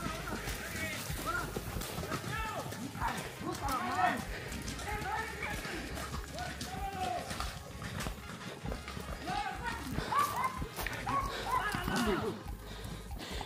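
Horse hooves gallop and clatter across open ground during a rural cattle roundup by charros, with rapid irregular thuds mixed under excited shouting voices.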